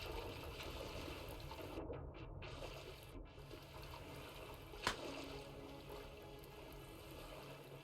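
Steady flowing water in a survival crafting game set near a raft on the sea, a continuous wash of gentle water and surf with one brief sharp splash midway, no talking.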